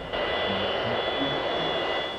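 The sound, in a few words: airplane engine before takeoff, from a cartoon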